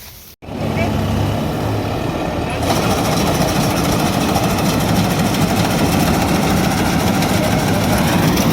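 A tractor stuck in a muddy pit idles with a loud, steady low rumble that starts abruptly after a brief pause and continues unchanged, close and dominant.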